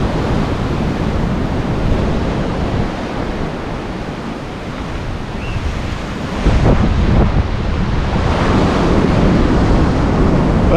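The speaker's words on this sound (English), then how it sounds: "we thought we'd just show you this beach while we were here" Steady surf washes onto a Caribbean beach on the east coast of Puerto Rico, a broad continuous roar of waves with heavy wind buffeting the microphone and a louder surge near the end.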